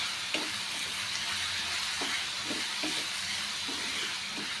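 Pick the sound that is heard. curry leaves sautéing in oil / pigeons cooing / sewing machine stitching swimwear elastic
curry leaves sautéing in oil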